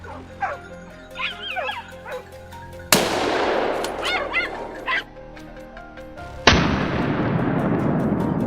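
Two loud, sharp gunshots crack out during a wild boar hunt on a mountainside, each decaying with an echo, while hunting dogs bark, yip and whimper nearby.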